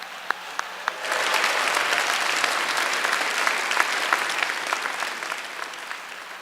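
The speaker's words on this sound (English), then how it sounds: "I just want to give them a big round of applause." Audience applause fills a high school pops concert hall after a few isolated claps, then swells into sustained, dense clapping that slowly tapers.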